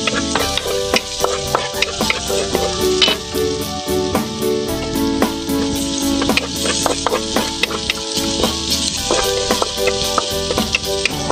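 Cabbage, egg and beef loaf fry in a pan, a loud, dense sizzle with frequent sharp clinks and scrapes of a utensil, close up and unbroken.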